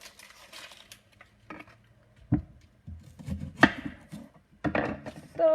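Knife chops through an onion on a cutting board in a home kitchen, a handful of sharp, separate thuds with short gaps between them, close and clear with no talking.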